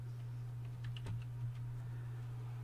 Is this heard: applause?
no